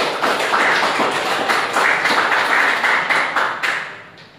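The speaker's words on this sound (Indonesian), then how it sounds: "Aplaus buat narasumber 3" Applause from an audience at a civic education class session, a steady dense patter of many hands that stays loud for about four seconds and then tapers off.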